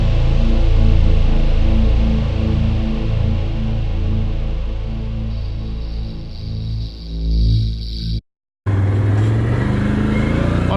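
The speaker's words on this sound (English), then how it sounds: "this is the first time up the figure 8 steep hill on the Can Am" A Can-Am Outlander 1000R XTP ATV climbs a steep hill. Its engine drones loud and close, steady and then straining, before a sudden brief cut and a return.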